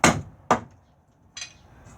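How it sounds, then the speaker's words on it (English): Hammer blows driving down a joint in a wooden frame built for an air conditioner in a Corsair camper: three sharp, close strikes, the first two quick and hard, the third slightly softer after a pause. "I'm going to hammer this down because there's a joint at the end of these two pieces"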